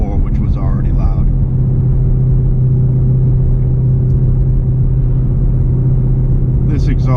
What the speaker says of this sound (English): This exhaust completely changed the tone. It almost sounds like a European V8.